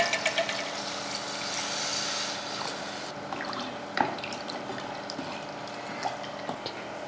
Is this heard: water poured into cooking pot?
yes